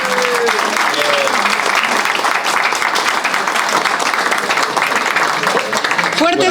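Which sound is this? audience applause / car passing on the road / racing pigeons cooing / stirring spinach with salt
audience applause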